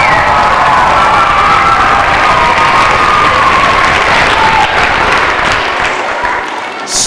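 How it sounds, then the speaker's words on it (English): Crowd of schoolchildren at an assembly cheering and clapping together, a loud sustained wash of applause and whoops that fades slightly near the end. "Give him a nice cheer!"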